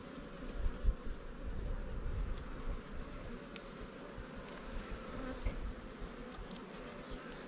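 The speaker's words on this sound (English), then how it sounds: "It's definitely got the bees." Honey bees swarm around an open hive at a newly set-up bee yard, a dense continuous buzz close by with a few soft knocks and bumps.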